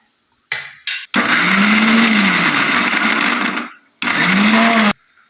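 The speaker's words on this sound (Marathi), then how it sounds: "थोडासा चणा आपण असं मिक्सरमधून जाडसर असं काढून घेऊया" A kitchen mixer grinder coarsely grinding cooked black chickpeas, with two short pulses and then a loud, steady whirring run of a few seconds, a brief pause, and one more short burst, close up.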